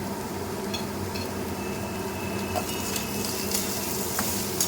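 Spices with turmeric powder, salt and sugar stirred in a frying pan for a banana-stem (thor) dish, a steady low sizzle with faint scraping and a few light utensil taps, fairly even and close.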